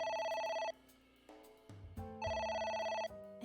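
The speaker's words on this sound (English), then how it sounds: "It won't stop ringing." A telephone ringing in a video game, two bursts of electronic bell trills separated by a short pause with lower tones in between, clear and moderately quiet, with no talking.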